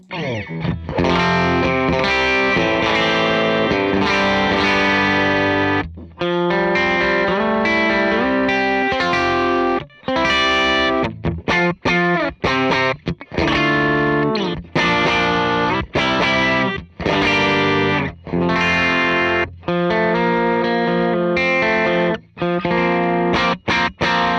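Electric guitar played through a Prescription Electronics RX Overdriver pedal, a thick, gritty distorted tone with sustained chords and riffs, loud and continuous with a few brief pauses.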